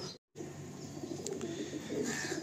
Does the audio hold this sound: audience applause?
no